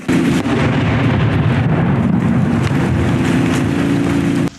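Continuous heavy rumbling booms with a steady low roar throughout, like distant explosions or artillery blending with wind noise, from shelling near Bakhmut.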